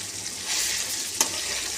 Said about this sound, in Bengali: মশলাগুলোকে আমরা ভেজে নিলাম।